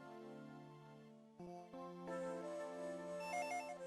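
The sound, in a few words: telephone ringing in a Dragon Ball Z video game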